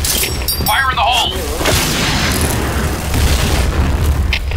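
A grenade explosion booms in the online shooter Piercing Blow amid game effects, with players talking loudly over the continuous dense rumble.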